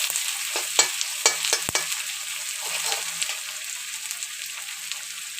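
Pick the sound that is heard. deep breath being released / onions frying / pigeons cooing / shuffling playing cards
onions frying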